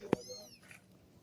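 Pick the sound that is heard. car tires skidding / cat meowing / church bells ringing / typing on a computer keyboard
cat meowing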